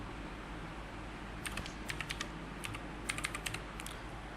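Keys clatter in quick irregular bursts on a computer keyboard while a username and password are typed in, fairly close and clear over a low steady room hum, with no talking.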